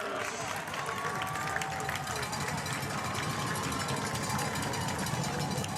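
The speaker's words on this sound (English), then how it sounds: "that crowd is getting pretty loud on a 3rd and 7 here from the Tigers Stadium" Steady roar of a loud crowd at a Tigers Stadium high school football game on third down, a continuous dense wash of voices throughout.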